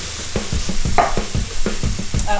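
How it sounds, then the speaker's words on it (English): Coconut milk goes into a sizzling one-pot sweet potato curry, with close, repeated stirring and scraping strokes in a rhythmic pattern over a constant frying hiss. "I'm going to add all of our coconut milk."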